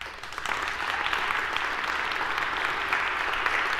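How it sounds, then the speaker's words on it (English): Steady, dense applause from a college faculty meeting audience fills the room, holding at an even, loud level throughout. "I appreciate the applause."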